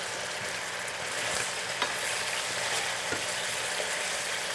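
Half-cooked potatoes frying in a pan for pan kabob, a loud, continuous sizzle and crackle close up with a few light scrapes of stirring.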